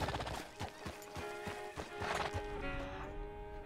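Horse in the Red Dead Redemption 2 video game whinnying over a steady clip-clop of hooves, with tonal in-game music running beneath and no voices.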